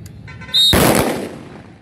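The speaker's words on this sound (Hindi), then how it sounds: "फायर की कार्रवाई" A single loud, close gunshot blast with a sharp crack and a rolling tail, fired during a firing drill at a police passing-out parade outdoors.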